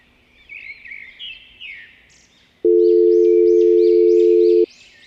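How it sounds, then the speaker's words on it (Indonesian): A loud, steady telephone tone sounds for about two seconds during a call in an animated horror cartoon, following faint chirping birdsong that continues quietly behind it. "Sebentar, saya coba telepon beliau dulu."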